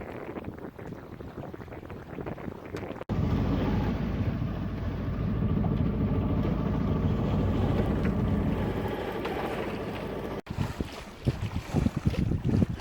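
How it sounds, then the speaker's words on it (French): A sailing yacht under sail on a September cruise along the French coast near Noirmoutier, heard as a steady, loud rush of water and wind against the hull with microphone wind buffeting, cutting abruptly partway through. "Et là on navigue sous voile, ça fait enfin plaisir."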